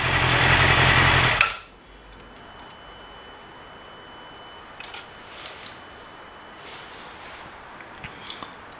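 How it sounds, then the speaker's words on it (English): A 2006 Yamaha YZF R6 motorcycle engine runs loud and steady at close range, then cuts off abruptly after about a second and a half, leaving a quiet background with a few faint ticks. "I've shut the bike off."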